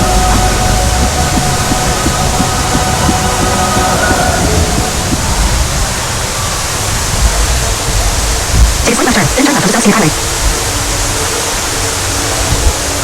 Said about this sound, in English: This is now Ruby Falls, the tallest underground waterfall here in America.